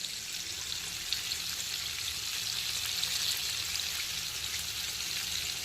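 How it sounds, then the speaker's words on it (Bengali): Chicken drumsticks, marinated KFC-style, frying in hot oil, giving a steady even sizzle and crackle that holds constant and fairly soft the whole time, with no voices. "এখন কিন্তু চিকেন ড্রামস্টিকের দুটো দিকই ভালো করে ভেজে নিয়েছি"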